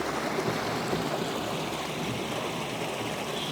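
Water runs steadily through a roadside culvert channel just cleared of rocks, twigs and needles, a constant close burbling rush with no voices.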